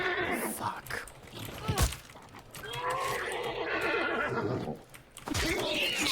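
A horse in the Hunt video game neighs and whinnies loudly several times over a busy in-game soundscape, with brief hoof-like thuds and some overlapping speech.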